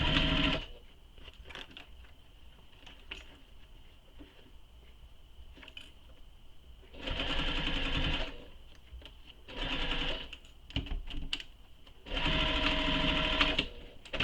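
Sewing machine stitching pleats into a shoulder bag, running in several separate loud bursts of rapid, steady whirring with quieter pauses between runs.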